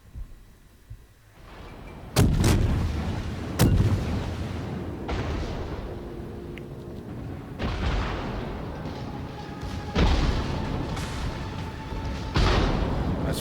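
Naval gunfire hitting the player's ship in World of Warships, a series of heavy booming blasts and impacts, several loud hits spaced a couple of seconds apart over a rumbling, sustained background.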